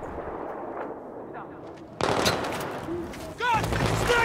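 Sniper fire in the shooter game Battlefield 3, during the Operation Swordbreaker mission, cracks out as two sharp, loud bursts after a quieter start, with voices shouting over the shots.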